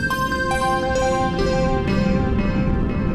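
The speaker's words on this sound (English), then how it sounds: "as derez goes down, the space gets bigger, but then this bit crushing effect comes in like much stronger." Synth notes struck one after another through a crunchy reverb with a strong bit-crushing effect. Each hit rings with a gritty, buzzing tail that spills into the next as the space grows larger.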